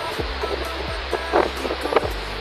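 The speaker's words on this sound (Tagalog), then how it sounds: "Kaya hangin at saka ulan nagsama sila kaya malakas" Strong storm wind roaring at the sea with rain, a steady loud rush of gusting air over the mic with low buffeting thumps and surf-like washing noise throughout.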